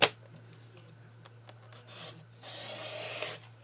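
Paper trimmer blade sliding through card stock during card making, a steady rasping cut that builds and brightens toward the end, fairly close and alone with no talk.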